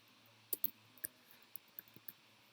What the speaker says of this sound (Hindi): मैंने सुनील टाइप कर दिया।